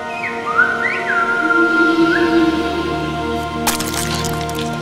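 Silbo Gomero, the whistled language of La Gomera in the Canary Islands: a loud, clear human whistle gliding and sliding in pitch through phrase-like contours, then sustained over a low hum before a sharp crackling burst near the end.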